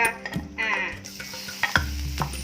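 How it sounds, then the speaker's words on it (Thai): Bacon sizzles and spatters in a hot pan for spaghetti arrabbiata, with a clatter of a utensil stirring it, close up and alone. "เบคอนลงไปทอดเลยจ้า"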